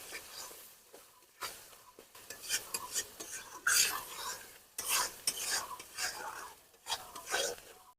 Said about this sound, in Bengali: এই মশলাগুলো দিয়ে ভালো করে কষিয়ে নেবো।